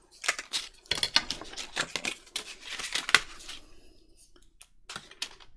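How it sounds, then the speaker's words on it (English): Scissors snipping off the ends of paper while making pocket templates, a close series of crisp rapid cuts and rustles, with quieter handling at the end and no talking. "Just cut that off at each end so it's nice and level."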